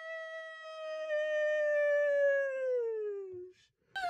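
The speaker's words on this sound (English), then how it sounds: "Every time I do the horse sound, my dog starts barking." A single long, clear dog howl sits close to the listener, sustained and gradually falling in pitch over about three seconds, then breaks off, with a short burst of noise afterward.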